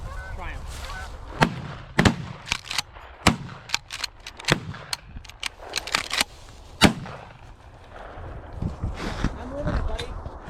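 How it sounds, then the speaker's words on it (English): Shotgun shots during a waterfowl hunt ring out outdoors as a series of sharp, loud blasts, several in quick succession and a few spaced apart, while geese honk and hunters talk in between. "Oh, let's take some shots."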